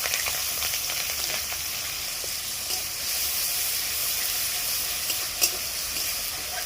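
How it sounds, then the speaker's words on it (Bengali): Ginger garlic paste, whole garam masala and chopped green chilli fry in hot oil, making a continuous bright sizzle and hiss that swells slightly midway and stays close throughout. "আদা রসুনটা আমার ভাজা হয়ে গেছে।"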